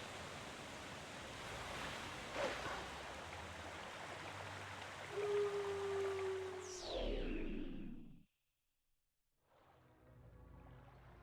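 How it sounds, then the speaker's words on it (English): Rushing water in Zelda: Twilight Princess carries the player downstream toward Lake Hylia, a broad steady roar that swells, then drops to near silence before a quieter wash returns. "This water should flow us all the way down to the lake."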